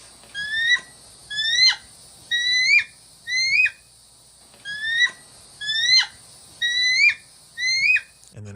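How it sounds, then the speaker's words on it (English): A bald eagle repeats high, thin piping calls, about eight short bursts of rapid chirps spaced roughly a second apart, clear and fairly close against a quiet background. "This is what the bald eagle actually sounds like."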